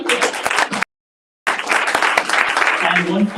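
Audience applause at a LinkedIn Local meetup in Toronto, a dense run of clapping that stops abruptly for a moment of silence, then comes back just as full and steady.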